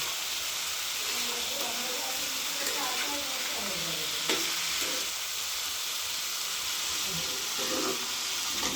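Potatoes for aloo bhaji fry in a pan with a continuous hiss and sizzle, broken by repeated scraping stirs of a spatula against the metal, close and steady throughout.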